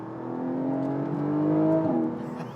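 A Porsche 718 GTS 4.0 flat-six held in a high gear, a loud steady engine drone close by that swells slightly and eases off, with no voices.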